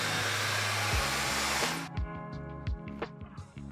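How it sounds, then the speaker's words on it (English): Handheld blow dryer running on its cool setting while drying long hair, a steady loud airy roar that cuts off after about two seconds, followed by a few brief clatters and softer handling noises. "blow dry your hair with the cool setting on your blow dryer"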